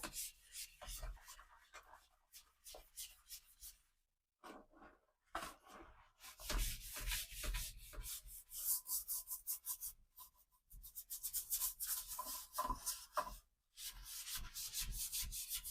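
Ajax powder cleanser scrubbed around a bathroom, rough rhythmic rubbing strokes with a short pause midway, fairly close, with occasional speech mixed in.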